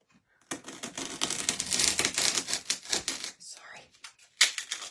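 Scissors or a blade cut through a leftover piece of sign material, giving a run of close, crisp snipping and crinkling sounds with short pauses between cuts.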